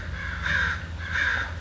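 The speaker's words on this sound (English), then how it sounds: "The crows are always laughing at me" Two loud, drawn-out crow caws about half a second apart over a steady low outdoor rumble, with no talking.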